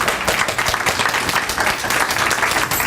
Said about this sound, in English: arroll and Linda, and especially Fool Proof, a big round of applause for what they're going to do on Monday.